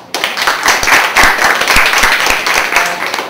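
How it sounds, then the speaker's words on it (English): Audience clapping at a student association vice-presidential debate forum, a close, loud burst of hand claps with distinct individual slaps in a fairly regular rhythm, continuing steadily for a few seconds. "So, round of applause for all of our candidates."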